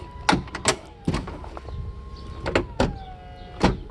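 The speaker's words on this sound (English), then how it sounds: "like the sound of filling of cylinders" Hydraulic soft-top cylinders of a Mercedes SL600 R129 whirring and filling after a rebuild, a steady pump drone broken by several sharp clicks and clunks, close and moderately loud.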